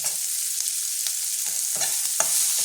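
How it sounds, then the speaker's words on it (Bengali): Garlic and onion fry together in hot oil for Bengali katla fish paste, a loud steady sizzle close by, broken by a few quick spatula stirs scraping the pan. "দিয়ে দেবো রসুনটা"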